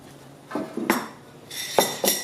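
Half-cooked split peas and rice are mixed into a bowl, a spoon giving a few clinks and scrapes against the dish in irregular bursts. It sounds close, with no talk.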